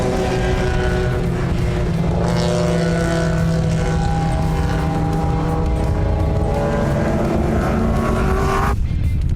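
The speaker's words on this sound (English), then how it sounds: "it's the red Daytona Coupe of Jonathan Dutoy who takes the checkered flag and victory in race 1" Historic race cars, including a BMW 2000 and a red Daytona Coupe, roar past loud and close in a sustained engine scream with shifting pitch, cutting off abruptly near the end.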